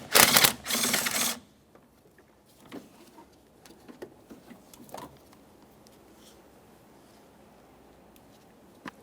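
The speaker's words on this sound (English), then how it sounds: "Let's start removing our two 12mm mounting bolts." Two 12mm mounting bolts are loosened on the brake master cylinder of a 2014-2019 Toyota Corolla. A loud burst of rapid ratchet clicking opens, then sparse, faint metallic clicks and taps follow in a quiet space.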